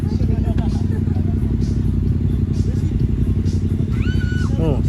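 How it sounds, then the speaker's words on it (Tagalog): Motorcycles revving and idling nearby with a constant loud engine drone, mixed with clatter and overlapping crowd chatter and voices throughout. "Nag-brum-brum sila."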